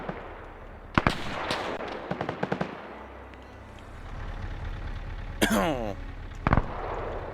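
Gunfire from an M1 carbine and other weapons in a WW2 video game, a few sharp single shots and short bursts spread across the stretch over steady background noise, with some louder, nearer reports toward the end.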